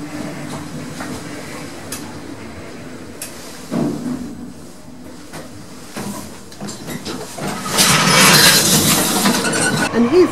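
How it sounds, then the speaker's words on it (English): A regional train rumbles and hisses at a station in Toulouse, with clattering wheels and a rising rush of noise as it moves past near the end. "here's the train station with some regional trains"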